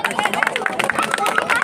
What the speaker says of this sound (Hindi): स्वागत करने के बाद ताली बजाएंगे।